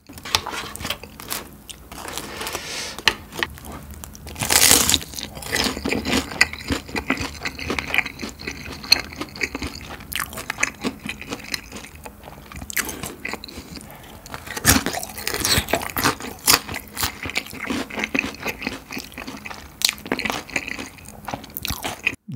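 Close, crisp crunching bites and chewing on a hollow fried gonggal mandu dumpling, a run of brittle cracks and munches repeating irregularly with no talk.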